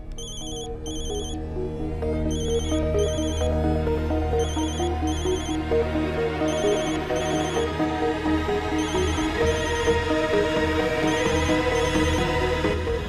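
A telephone rings in a drama scene, repeated short trilling bursts in a regular pattern over a background music bed, with no talking.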